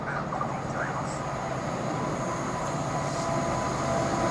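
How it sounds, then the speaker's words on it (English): Intermodal freight train hauled by class 66 locomotive 66747 rolling through platform 1 at Stowmarket station, a steady loud rumble of wagons with faint high squeals above it. "now about to pass through platform 1 is intermodal service 4Lima02 from Hams Hall Terminal to Felixstowe South Terminal"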